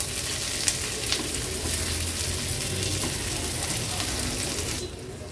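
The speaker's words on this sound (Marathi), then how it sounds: "लसूण आणि आलं देखील व्यवस्थित आपल्याला परतून घ्यायचे" Garlic and ginger sautéing in oil in a pan for a restaurant-style veg thali, a dense steady sizzle close up that cuts off abruptly near the end, no talk.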